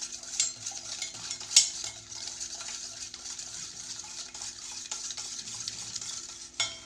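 Crushed biscuit mixture stirred round in one direction in a bowl for a wheat cake: soft, quiet, continuous scraping with a few sharper clinks of the spoon, no talk.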